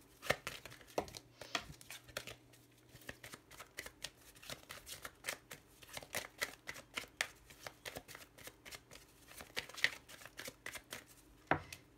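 A deck of Lenormand fortune-telling cards is shuffled close up for a long stretch of quick, papery riffles and flicks in an irregular rhythm, with a faint steady hum underneath and no voice.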